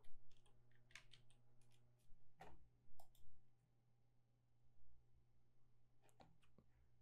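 Typing on a computer keyboard: quiet, close, irregular key clicks in short flurries with brief pauses between them, and no talking.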